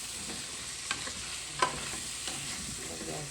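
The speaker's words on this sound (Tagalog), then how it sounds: "Luto ako ng adobo." Chicken adobo stirred in a pan, a steady soft sizzle with a few scraping clinks of the spoon against the pan, close by and without talk.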